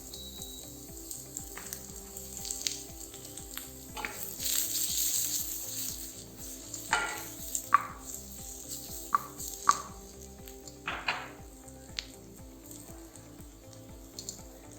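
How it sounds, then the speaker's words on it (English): Ingredients for Japanese yakisoba noodles sauté in a pan over a flame, giving a steady close sizzle with occasional sharp scrapes and taps of stirring, with no talking. "saute it very well. Now reduce the flame."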